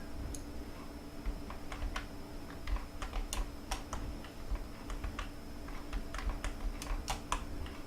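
Computer keyboard keys clack in quick, uneven bursts as a player steers a character through World of Warcraft's Timeless Isle quests, a soft close tapping over a steady low background hum with no voices.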